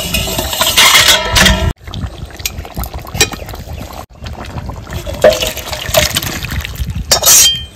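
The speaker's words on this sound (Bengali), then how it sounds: "আমি এবার ঢেলে নেব" Mutton curry poured from a cooking pot in a village kitchen, with loud wet sloshing and splattering in bursts broken by brief pauses, close up.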